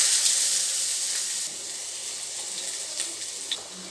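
Chopped onions dropped into about three tablespoons of hot oil in a pan, giving a steady, close hiss and sizzle with faint crackles and brief pops throughout, no voices.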